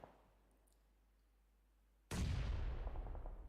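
A grenade bursts in a PUBG Mobile esports match, a sudden loud blast after a quiet stretch, its crackling roar sustaining to the end.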